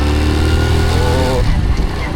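A motorbike engine runs steadily close by on a village outing in rural Pakistan, a loud continuous rumble with a brief rise in pitch, as if revving, partway through, while speech sounds mix in.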